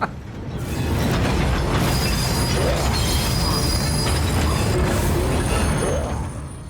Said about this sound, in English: And then the whole train derails.